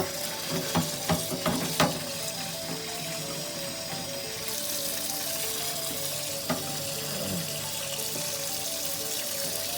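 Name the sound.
scrubbing paint off a miniature with a scrubby pad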